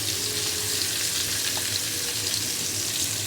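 Chopped onion fries in a pan for a fish and prawn chutney, giving a dense, even sizzle close by with no talking.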